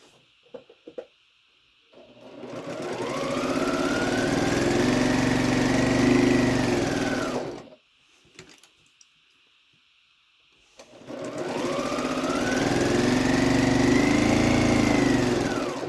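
Sewing machine stitching a quarter-inch seam around the perimeter of a quilt square, running in two long steady bursts with a brief pause between them as the block is turned.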